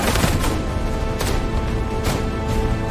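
Gunshots in an audio drama, as a gunman fires from a window at a police car: several sharp cracks about a second apart over a dense, noisy background.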